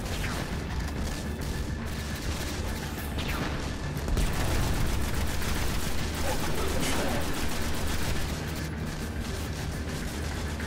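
Continuous gunfire and explosions from a Destiny boss fight against Sekrion, Nexus Mind, on Venus form a dense, loud wall of shots and booms, with voices talking over the top.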